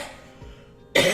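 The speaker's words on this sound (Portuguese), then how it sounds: "A minha tosse é alérgica, que nunca passa." A woman gives a single sharp allergic cough close by at the very end, after a quiet room pause.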